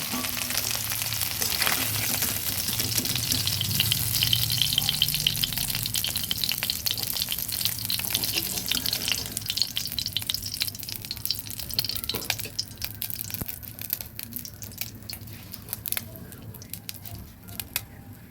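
Tengra fish frying in oil in a kadai, a close continuous sizzle with scraping and clicking from stirring, the hiss thinning and growing more spattery in the later half.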